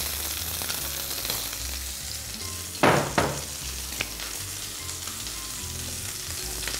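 Pork sizzles steadily in a hot pan, a continuous close frying hiss with a couple of sharper crackling bursts midway, no voices.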